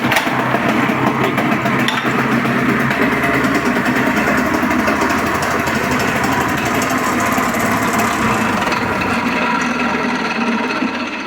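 A small Terra engine, started in frost, runs steadily at a fast idle throughout, loud and close, with a constant mechanical drone and no pauses.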